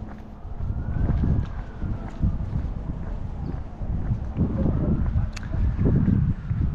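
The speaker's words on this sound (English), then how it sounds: "Oh, kind of windy." Steady wind rumbles and buffets the microphone throughout, with gusts swelling and easing in low, roaring bursts.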